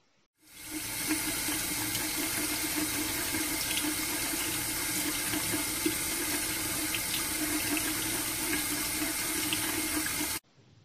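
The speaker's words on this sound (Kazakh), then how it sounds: "Краннан су аққанда қандай дыбыс шығады?" Water runs steadily from a tap, a continuous close hissing rush into a sink that lasts about ten seconds without any talk.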